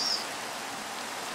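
Steady soft rain hiss in Minecraft, a faint even wash with a brief brighter patter at the very start and no voices.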